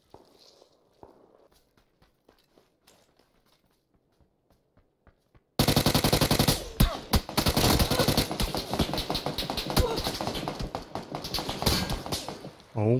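Gunfire in the battle royale shooter PUBG: quiet footsteps and light clicks lead into sudden sustained rapid automatic fire, loud and close, continuing in long rattling bursts until the end.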